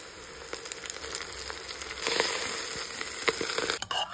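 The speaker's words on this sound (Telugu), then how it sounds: "పసుపు మంచిగా మెరిగినాక చామకూర ఆకేసుకోవాలి" Turmeric and taro leaves fry in a pan with lightly fried onions and chillies, giving a close, steady crackling sizzle with a few sharper pops and scrapes toward the end.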